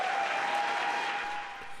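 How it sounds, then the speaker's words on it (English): Mission Control staff applauding as a SpaceX capsule carrying an all-civilian crew parachutes into calm seas, a dense, even wash of clapping from a room full of people that fades slightly toward the end. "Applause was heard from Mission Control as the SpaceX capsule parachuted into calm seas shortly before sunset"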